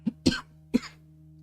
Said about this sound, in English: don't know why I was coughing right before the stream and coughing now.